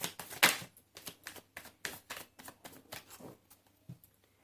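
Tarot cards are shuffled close by: a quick series of crisp slaps and flicks in a steady rhythm, starting with one loud snap and thinning out into quieter taps.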